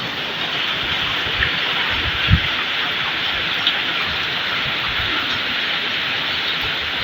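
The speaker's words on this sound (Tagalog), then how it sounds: "Hindi naman masyadong kalakasan yung ulan" Steady rain with wind gusting outside during a storm, a broad continuous hiss with a few scattered louder knocks and taps, no voices.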